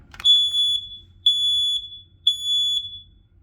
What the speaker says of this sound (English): I guess we can go ahead and push the test button.